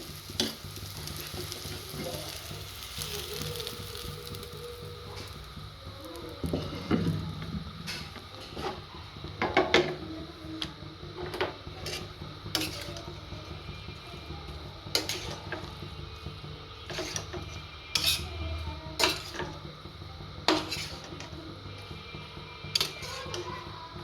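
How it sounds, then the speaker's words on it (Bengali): Soybean chunks frying with masala in a kadai, kept sizzling throughout while a spatula stirs and scrapes the pan. Sharp metallic clinks and knocks recur every few seconds over the continuous fry. "এখানে ঢেলে দিব সয়াবিনগুলো"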